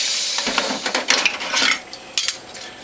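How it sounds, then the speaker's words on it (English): Brush scrubbing plastic juicer parts and the feed tube, with quick irregular bristle swishes and light clattering knocks of the parts in short bursts, close by and without talk. "I'm going to use the brush which comes with all of the juices that I sell"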